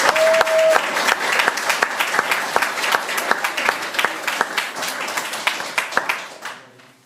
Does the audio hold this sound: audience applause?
yes